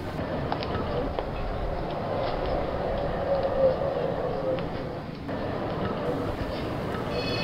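A city tram rumbles steadily along a street through the CBD on Lambton Quay's Golden Mile, a continuous moderate rolling noise with a faint whine, heard under a narrator's voice.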